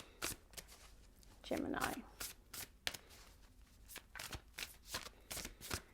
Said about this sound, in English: All right, Gemini, let's pull the first 3 cards.